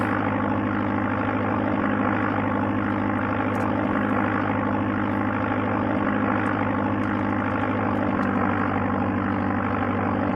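Airplane engine in the Amiga Sublogic Flight Simulator II game, a continuous loud, even propeller drone with a buzzy hum that holds steady from start to finish.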